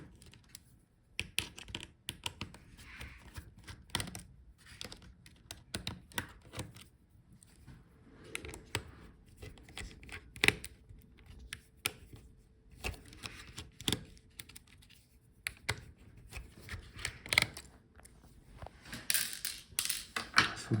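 A screwdriver works the hinge screws out of an HP Omen 16 laptop during disassembly, giving sparse close clicks, taps and scrapes of tool on metal and plastic at irregular intervals with no talk.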